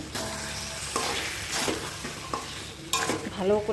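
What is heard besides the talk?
diced onion and whole garlic frying in oil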